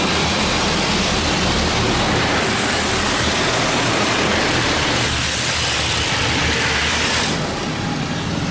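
A Mark VII ChoiceWash XT automatic car wash sprays rinse water over a car, a loud steady rushing hiss heard from inside with a low machinery hum underneath, easing slightly near the end.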